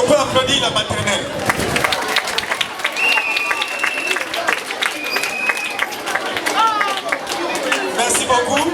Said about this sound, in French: Est-ce qu'on peut applaudir la maternelle?